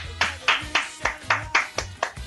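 Hands clap in a radio studio, about nine sharp claps in a steady rhythm, close and clear, with a voice talking briefly between them.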